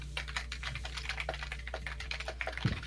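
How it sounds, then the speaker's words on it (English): Rapid, continuous keyboard typing with dense, uneven clicks close by and no voices. "Somebody is typing a mile a minute."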